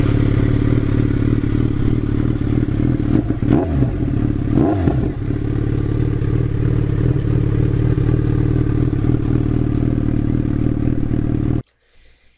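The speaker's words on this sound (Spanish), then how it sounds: "Nada más suban el volumen y escuchen esta moto." A customized Suzuki B-King 1340 motorcycle engine runs loud and close, a steady deep rumble with a few brief clattering surges in the middle, then it cuts off abruptly near the end.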